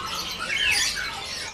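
A prinia songbird at a bird shop gives a harsh, buzzy squawking call, loud and close, lasting just over a second with no talk over it.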